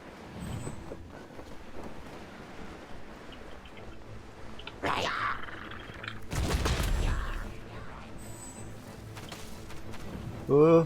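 Gunfire in the Genshin Impact video game while gliding, with a short rattle of shots and then a longer, louder burst of fire, mixed under game sounds and a voice talking over it.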